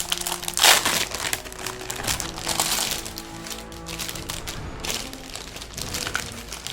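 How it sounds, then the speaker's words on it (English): Crinkly plastic shrink-wrap peeled and crumpled off a Warhammer Age of Sigmar Spearhead paint set, a close run of sharp crackles and rustles in irregular bursts, loudest near the start, with no talk. "actually let's get this paper off"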